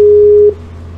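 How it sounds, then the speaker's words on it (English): A single phone ring tone from an outgoing call, loud and close, holding a steady pure tone for about half a second before cutting off to a faint line hum. "I really hope this works. I'm hearing it ringing."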